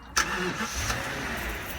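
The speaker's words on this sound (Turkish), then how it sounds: "arabanın motorun sesini duyalım" A bus engine turns over and settles into a steady mid-pitched idle, close and fairly loud, with a sharp onset at the start and a slight rise in revs partway through.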